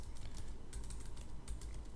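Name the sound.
typing on a computer keyboard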